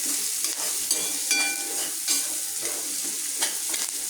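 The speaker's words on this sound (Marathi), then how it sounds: "हे परतून घ्यायचं छान कांदा टोमॅटो सर्व हे आपण साहित्य टाकलेलं आहे याच्यात घातलं आहे ते छान परतून घ्यायचं" Onion and tomato mixture for rava upma being sautéed in a pan, a close steady sizzle with frequent spatula scrapes and light metallic clinks, no speech.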